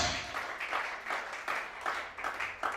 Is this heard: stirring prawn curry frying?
no